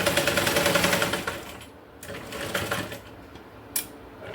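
Sewing machine stitching a cloth tote bag made from waste fabric, a fast rattling run of stitches for about a second and a half, then quieter short bursts and a few sharp clicks.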